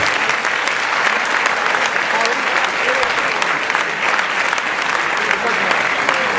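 Steady, dense applause fills the room as an audience at an Argentine political panel claps for the guests, loud and unbroken for several seconds with crowd murmur blended in.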